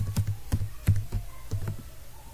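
Someone types C code on a computer keyboard, producing a quick run of crisp, close keystrokes at an uneven pace with no speech over them.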